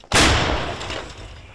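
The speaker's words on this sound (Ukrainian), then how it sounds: "Гармата ще радянських часів гаубиця, де 30 робить постріл" A single heavy blast from a Soviet-era D-30 howitzer firing at the front in Ukraine booms out suddenly, followed by a long rumbling decay as the echo fades.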